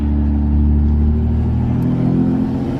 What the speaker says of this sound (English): I didn't know the turbo was that loud for these